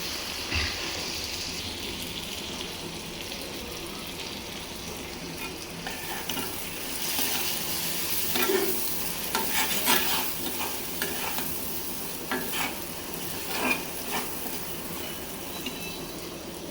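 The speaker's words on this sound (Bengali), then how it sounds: "ভাজা ভাজা হোক, আস্তে আস্তে কমাই রাখি।" Bottle gourd curry sizzles and fries in a pan while being stirred, a steady close hiss with occasional scraping clicks of the spoon.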